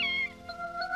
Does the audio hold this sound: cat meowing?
yes